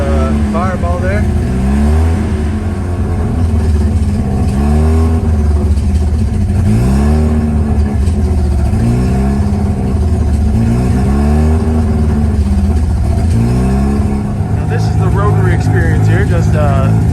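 Revived car engine, smoking after a long crank, revving hard in repeated rising and falling sweeps with rough popping, loud and close, while a person talks over it.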